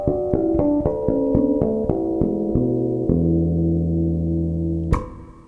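Bass guitar natural harmonics play the opening line of a piece, a run of bell-like plucked tones in quick succession that ring together, ending in a sustained chord, clear and close with no talk.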